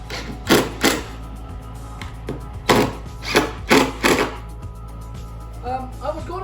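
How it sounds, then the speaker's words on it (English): A power driver sets screws into pine boards for a board and batten door, with several sharp bursts of whirring and knocking at irregular intervals, close and fairly loud amid quieter workshop noise. "I got 2 more screws. I'm going to screw them in there now."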